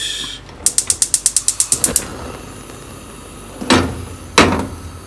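A stove's control knob clicks rapidly about a dozen times as the burner is lit to heat a pan, followed by two louder knocks or clunks, close by with no talk.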